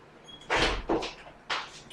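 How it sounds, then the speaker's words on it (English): An indoor door swings shut with a couple of solid thuds and a short follow-up knock, moderately loud and close, with no talking over it. "Let me close this door."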